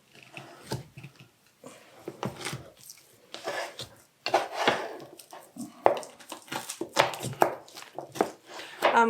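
Frozen lard being chopped into small pieces with a knife on a board, a series of sharp, irregular knocks and cuts, close and fairly loud, with no talk.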